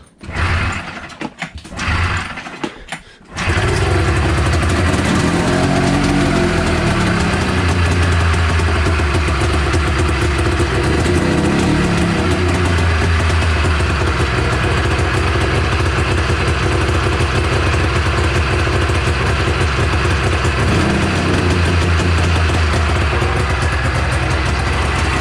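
A 1993 Arctic Cat Thundercat 900 snowmobile engine turns over with a few cranking bursts, then catches and settles into a loud, steady idle that runs on close by without pause.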